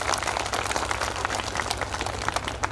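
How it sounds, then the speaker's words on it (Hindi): A village chapel audience claps loudly and steadily at a welcome program, a dense wash of applause sustained throughout without any talk over it. "जोरदार ताली बजाएंगे प्लीज"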